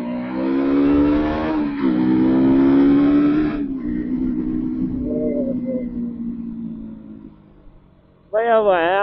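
A KTM motorcycle accelerates hard on a road, its engine revving loudly with rising whines and a gear change before easing off; a voice cuts in at the end.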